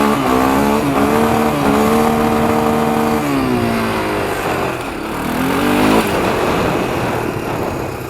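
A 1993 Honda 300EX ATV engine revs hard and loud at close range, holding near the second-gear rev limiter with rising and falling pitch as it slides sideways, continuous for the whole stretch with no talk.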